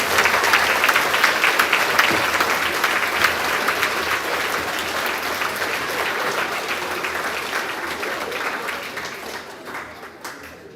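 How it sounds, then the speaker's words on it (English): A school awards assembly audience applauds a fourth-to-sixth-grade student winning the Super Scientist Award, with dense, sustained clapping that stays steady and loud before thinning out and fading near the end. "One more round of applause for Mark"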